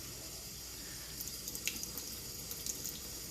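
Tap water runs steadily and softly while a young chick's pasty rear is rinsed at a sink, with faint splashes and drips breaking the even flow.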